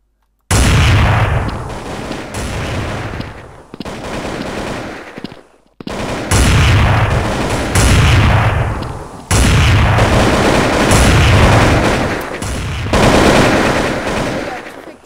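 Heavy automatic gunfire from an enemy's weapon in the video game First Blood, loud sustained bursts of rapid shots with brief pauses between volleys.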